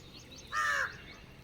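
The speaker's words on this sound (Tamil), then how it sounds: "அண்டங்காக்கா நண்பர் வந்துட்டார் போல" A jungle crow gives a single hoarse caw, moderately close and clear over quiet outdoor background.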